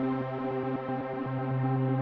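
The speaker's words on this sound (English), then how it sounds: "we change the waveform of the tremolo effect." A synth pad chopped by a square-wave tremolo in Logic Pro X pulses in a fast, choppy on-off rhythm. It stays loud and even throughout, with no voices.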